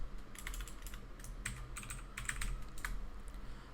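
Quiet, irregular keystrokes on a computer keyboard, clicking in short bursts and single taps while a folder is renamed, close and soft with no speech.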